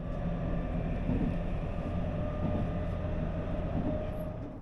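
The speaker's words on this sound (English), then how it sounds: "Our train begins to accelerate up high on a flyover" Osaka airport express train rumbles steadily as it accelerates high on a flyover, a dense continuous low drone with faint tonal whine from inside the carriage, no voices.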